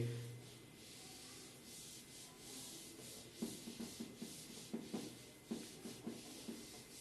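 Chalk writing being rubbed off a classroom board during a physics lesson, a run of short scrubbing strokes in quick bursts that grow more distinct midway, set against steady room hiss with no talking.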